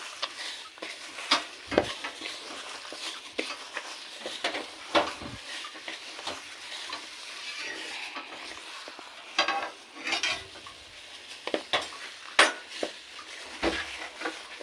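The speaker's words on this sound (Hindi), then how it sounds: "कबाब के बैटर के अंदर अपने, और इसे मैं मिक्स करूँगी।" Chana dal being mixed into a minced meat kabab batter, producing soft wet stirring and squelching with occasional sharper clicks of a utensil against the bowl, close and steady without talk.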